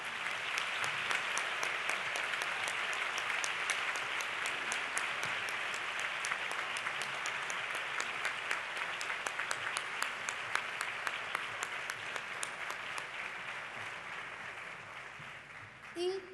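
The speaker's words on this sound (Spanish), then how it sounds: "Y le damos un fuerte aplauso" Sustained audience applause at an education excellence awards gala, dense steady clapping from a large crowd continuing for about sixteen seconds without a break.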